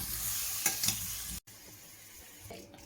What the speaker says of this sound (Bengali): ফুলকপির জন্য একটু আলু নিয়েছিলাম, সেটা ভেজে নিচ্ছি।